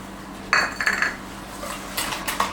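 A whisk beats egg yolk with caster sugar in a bowl, making quick metallic clinks and scrapes against the sides in short bursts, close and fairly clear.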